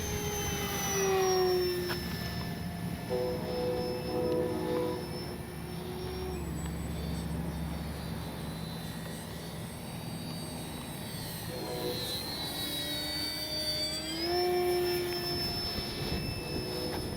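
An FMS Ranger 1220 V2 RC plane flies a touch-and-go pass, its electric motor whining steadily with pitch rising and falling as it moves near and away, fairly loud with wind noise.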